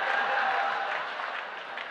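An audience at a Haryanvi comedy poetry show applauds in a steady, dense round of clapping that fades slightly toward the end.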